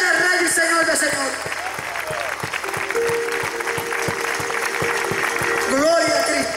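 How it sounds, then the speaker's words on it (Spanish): Loud applause from a church congregation honoring the King of Kings, sustained for several seconds with music or organ tones playing underneath and voices mixed in. "Dale un aplauso fuerte al Rey de Reyes, Señor de Señor."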